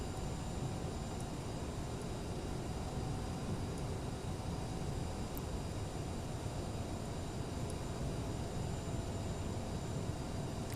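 Steady, even whine and hum of a CRJ700's jet engines in a flight simulator game before takeoff, a constant moderate drone with faint high tones and no voices.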